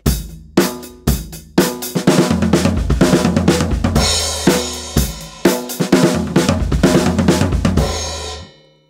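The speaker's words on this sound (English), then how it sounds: "So let's put it into a groove context, pop rock." A full drum kit plays a pop rock groove with kick, snare and cymbals, with crossover tom fills rolling across the kit at intervals, loud and close.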